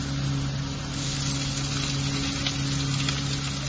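Chopped onions, three large ones cut small, fry together with potatoes in a pan, giving a steady, close, continuous sizzle with no talking.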